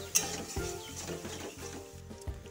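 A spoon scrapes and stirs through a catla fish curry as yogurt is mixed in, with a soft sizzle from the pan underneath and repeated low scraping strokes, close up and steady.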